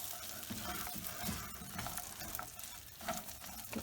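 Brown sugar melts with nuts in a pan while being stirred, giving a faint, steady sizzle with light scraping and ticking from the stirring and no talk.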